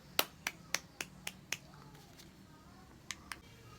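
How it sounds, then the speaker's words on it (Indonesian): Students applaud group 6 at the end of a ninth-grade maths lesson, a handful of sparse, separate claps ringing out in a quiet classroom, a quick cluster followed by a pause and two last claps. "Tepuk tangan untuk kelompok 6."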